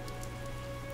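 Steady rain pours in a Fire Emblem Three Houses scene, a constant dense patter with soft drops spattering on surfaces, accompanied by a sustained low tonal drone underneath, no voices.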